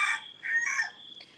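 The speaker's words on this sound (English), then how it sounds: "constant rooster. He lives on that roof or in that tree or something." A rooster crows from nearby rooftops or trees by a hotel in Vang Vieng on a market morning, one drawn-out call, moderately loud and slightly distant.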